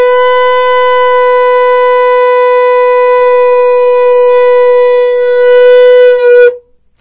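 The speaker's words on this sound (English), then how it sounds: "The Ashkenazim do a Tekiah Gedolah, which is a straight long sound" Shofar sounding a Tekiah Gedolah, a single long straight blast held steady for about six seconds before stopping abruptly, loud and close with no talk.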